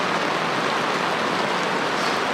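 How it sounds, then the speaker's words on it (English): Steady rain falling on a sailboat moored at Deltaville, a dense, even hiss of drops on deck and canvas, close and continuous with no voices. "It's a rainy day on the boat."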